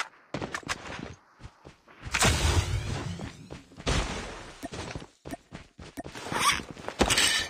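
An AK47 magazine change in the video game Call of Duty Mobile: sharp metallic clicks and clacks, a rattling slide, then a burst of gunfire and more handling noises, close and crisp.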